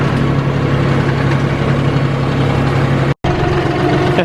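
A tractor engine running steadily on a logging property, a continuous loud rumbling drone with a low hum, close by, briefly cut by a short dropout near the end.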